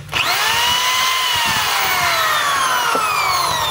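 A DeWalt DWD024 1/2-inch hammer drill spins up sharply and runs at a loud, steady whine close to the microphone, with no talking.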